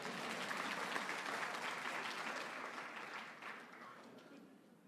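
Applause from a congregation fills a church service, steady dense clapping at a moderate distance that slowly tapers over five seconds, with no voices.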